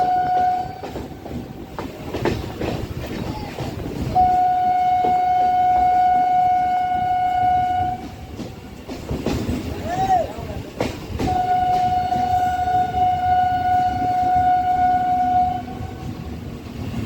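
A Kolkata Circular Rail train rumbles between stations with a loud, steady rolling roar and wheel clatter, and a long horn sounds several times in sustained blasts.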